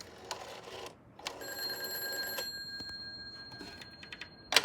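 A rose beige 1957 Western Electric 500 rotary-dial telephone gives faint, thin bell tinkles in short bursts while it is dialed with the handset off, set against low background noise and quiet clicks.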